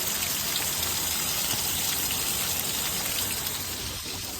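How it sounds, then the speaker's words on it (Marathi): Heavy rain pours steadily, a dense close hiss of drops hitting surfaces that stays loud and unbroken, with no voices. "खूप पाणी चालू आहे मित्रांनो."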